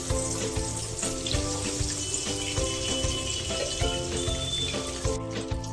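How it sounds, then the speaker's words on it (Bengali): Pabda fish frying in hot oil in a pan give a continuous close sizzle, dense with small crackles and spits, fairly quiet and steady, with no talk. "মাছগুলো ভাজা হয়ে গেছে, এবার উল্টে দেবো মাছগুলো।"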